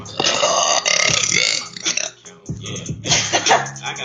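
A woman belches on command, producing a string of loud, drawn-out burps with brief pauses between them, heard up close with no other sounds.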